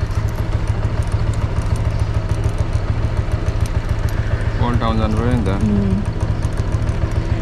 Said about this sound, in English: It's a Ramro scooter. So it's a brand new scooter.